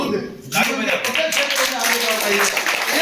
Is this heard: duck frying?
no